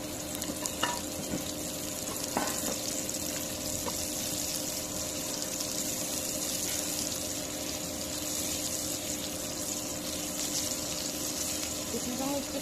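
Onions and green chillies fry in hot oil in a home kitchen, giving a steady, close sizzle that continues throughout with a few light clinks over the top.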